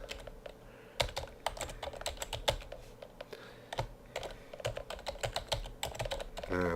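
Someone types an email address on a computer keyboard, producing rapid, irregular, close keystrokes and key clicks with brief pauses in a quiet room.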